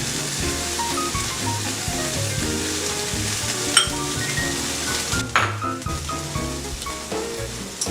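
A quesadilla with melting manchego cheese sizzling in a pan beside heating beans, a steady frying hiss under background music with a couple of light clinks, no talking.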